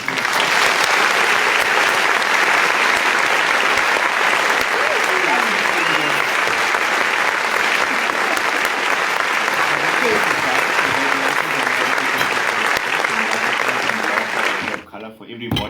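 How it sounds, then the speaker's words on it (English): A crowd at a fan-zone fundraising gathering breaks into steady, loud applause that holds for about fifteen seconds before dropping off sharply at the end. "Let's clap."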